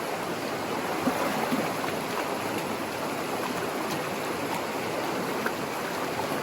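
A gold pan of gravel and moss is shaken vigorously in stream water, giving a steady, close wash of splashing and rushing water throughout with faint scraping under it, and no talk.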